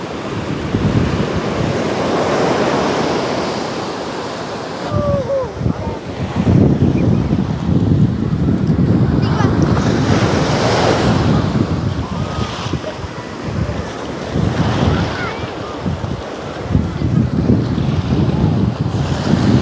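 Sea waves break continuously on a beach, their loud surf rolling under heavy buffeting wind, with faint voices occasionally in the background.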